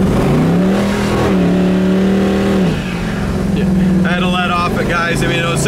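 A 1969 Chevrolet Camaro resto mod revving hard during a burnout, its engine note rising and holding loud and close, then dropping and climbing again as a voice talks over it.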